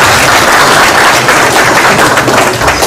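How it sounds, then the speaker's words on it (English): A General Assembly meeting hall fills with loud, sustained applause as members clap together to approve the minutes. The dense wash of many hands carries evenly throughout without a break. "we'll ask for a hand clap to validate that the General Assembly accepted the minutes"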